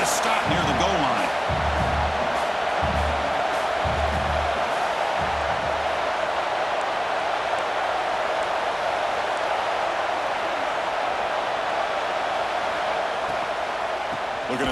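Stadium crowd roar in a college football video game, a dense, steady wash of fans held at full level throughout during a goal-line defensive stand, with rhythmic low thumps in the opening seconds.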